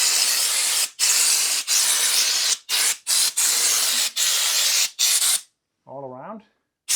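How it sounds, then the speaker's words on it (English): Long continuous bursts of aerosol rust treatment hissing loudly and close as it is sprayed on the underside of an Austin Princess 2200 car, broken by brief pauses, followed by a short voiced sound near the end. "Now I'm just spraying it"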